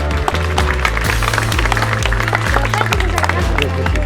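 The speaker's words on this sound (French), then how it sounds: "vous pouvez l'applaudir" Spectators at the Rocher des Aigles falconry show in Rocamadour, France, clap loudly and continuously for a bird that has just landed, the dense applause ringing out over a steady low musical backing.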